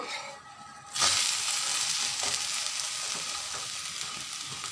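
A flipped egg fries in oil in a frying pan, a steady close sizzle that jumps in loud after a quiet moment and carries on evenly to the end, with no voices.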